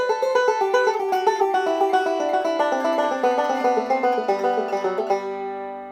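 Solo banjo picks a fast melodic phrase in a rapid, even stream of bright plucked notes, close and clear, ringing out at the end with no talking.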